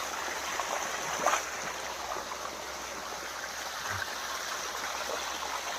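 Water runs along the Male river beside areca and banana plantations, an even, unbroken rushing stream sound, with one brief louder splash near the start.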